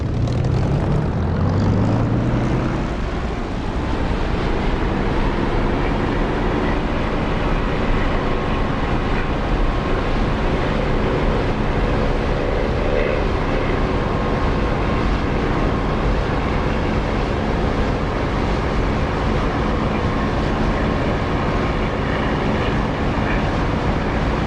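Propeller aircraft engine in the DCS flight simulator throttling up for takeoff, a steady loud drone with a low rising tone early on, continuous for the whole stretch with no talk.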